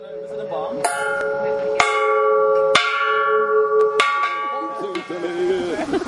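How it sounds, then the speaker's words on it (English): Gong at an open-air art event, struck about six times at an uneven pace, each hit ringing out with long metallic sustain and overlapping decays. "gong."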